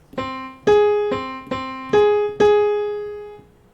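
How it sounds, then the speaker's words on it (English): A minor sixth interval played as separated notes on a pitched keyboard-like instrument, six clean struck tones in an uneven pattern, each decaying quickly, close and clear with nothing else heard. "if you hear that sound, that is the sound of the minor sixth"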